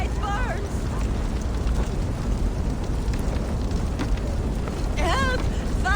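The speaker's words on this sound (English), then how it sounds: "Help! Fire! Save my food, it burns!" Food burning in a fire in Assassin's Creed Valhalla, a loud continuous roar and crackle of flames with a voice calling out over it near the start and again near the end.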